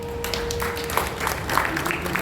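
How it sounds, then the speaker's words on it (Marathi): An audience claps briefly to welcome two presenters at a stage program, a thin steady patter of applause, modest rather than loud, with a faint tone and murmur in the hall. "टाळ्या थोड्या कमी पडल्या मला असं वाटतं"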